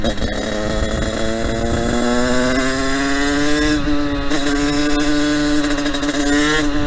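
A CRF 86 dirt bike engine, a replica build ridden in supermoto trim, runs close by with a loud, buzzy two-stroke drone whose pitch climbs slowly and steadily as it revs, alone without talk.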